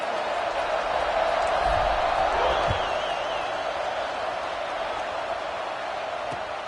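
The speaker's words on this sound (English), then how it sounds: "this crowd is buzzing after that last score" Stadium crowd in the video game Football 26, a steady broad buzz of thousands of fans held at an even level throughout, with a faint whistle-like tone drifting through the middle.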